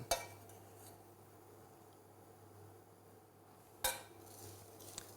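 A spoon stirs sugar syrup and cocoa nibs in a pan while they crystallise dry, with faint scraping and a couple of sharp metallic clinks against the pan.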